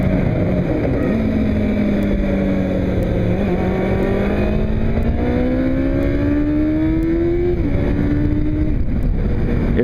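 A Kawasaki ZX-2R learner motorcycle engine under way, holding a steady, loud drone whose pitch sags and then climbs gradually as the rider accelerates, with continuous wind and road noise beneath it and no voices.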